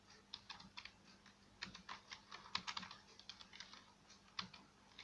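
Quick, irregular keystrokes as text is typed on a keyboard during a mobile-banner tutorial, clicking in short bursts with brief pauses, fairly faint and with no talking.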